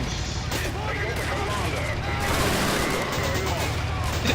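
Tank cannon fire and battlefield gunfire in the Men of War Assault Squad 2 video game, a dense, continuous barrage of blasts and crackling shots with Cromwell tanks in play, heard loud and close with no break.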